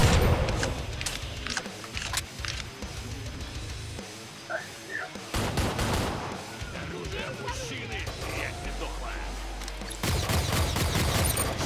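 Bursts of rapid gunfire and sharp shots crackle in a video game, with scattered explosions and a voice talking over the action.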